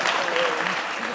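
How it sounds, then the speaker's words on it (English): An audience at an alumni speaking event claps steadily throughout, a dense, even wash of applause with no pauses. "Y'all could clap."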